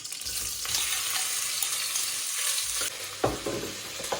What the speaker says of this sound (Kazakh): Енді етіміз әбден қуырылды.